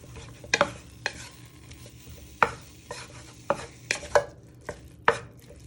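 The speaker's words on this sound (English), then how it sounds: "So you're just breaking it apart using your wooden spoon." Wooden spoon breaking apart minced beef browning in a pan for a steak and ale pie, with irregular scraping knocks and taps against the pan over a faint sizzle, close and without talk.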